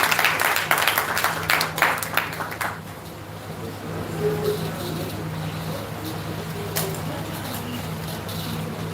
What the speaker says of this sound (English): Clap them, man, clap them.